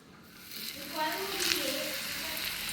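Fish frying in hot oil, a soft continuous sizzle and crackle rising after the first second and holding steady, with faint voices in the background.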